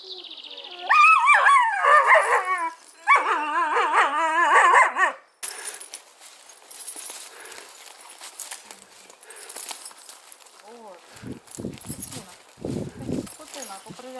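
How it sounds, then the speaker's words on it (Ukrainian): A dog on a mountain road in Crete barks several times close by in two loud bursts, then people talk while footsteps and small movements follow. "Перед нами собака на дорозі."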